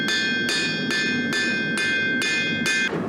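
A metal hammer strikes steel bars in a craft workshop, flattening the metal with seven evenly spaced, ringing blows at close range, each impact followed by a bright metallic ring.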